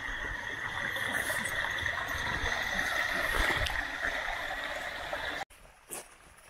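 Hot spring water runs through a stream in a desert canyon near the Hoover Dam, a steady gurgling flow heard up close before cutting out abruptly near the end.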